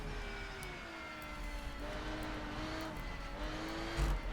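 A race car engine in the Rennsport racing game drones steadily through a cornering run, its pitch sliding and shifting as the car understeers, with a brief thump near the end and no talking.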